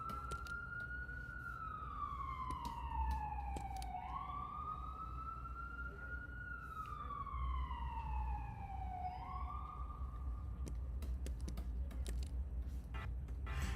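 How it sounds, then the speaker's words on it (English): A police siren wails along a New York street, two long rising-and-falling sweeps repeating loud and steady over a low city rumble, with faint clicks of keyboard typing in the foreground. "Sorry about the siren, guys."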